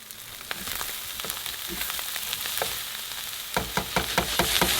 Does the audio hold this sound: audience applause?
no